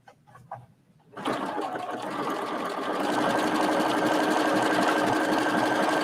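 A sewing machine stitches steadily along the edge of a folded fabric, its rapid mechanical whir starting abruptly after a second of near quiet and then running loud and continuous, alone without talk.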